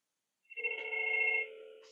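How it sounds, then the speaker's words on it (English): A Fanvil V series VoIP desk phone rings once, a close, clean electronic trill that begins after a brief silence and holds for about a second before tapering off. "So I'm going to call this phone."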